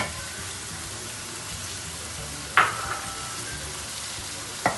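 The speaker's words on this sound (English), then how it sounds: "Let's stir." Mixed vegetables stirred in a frying pan: a steady low sizzle runs throughout, with two sharp scraping clicks of a utensil against the pan, close and moderately loud, no talk.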